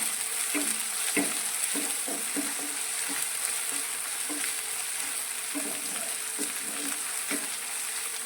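Crushed ginger, green chilli and garlic sauté in a pan of hot oil for a green pea ragda, giving a steady close sizzle broken by repeated stirring scrapes and clatters.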